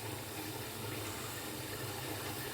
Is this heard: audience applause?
no